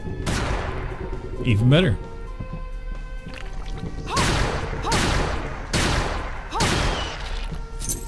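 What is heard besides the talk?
musketoon gunfire in the video game Bloodstained: Ritual of the Night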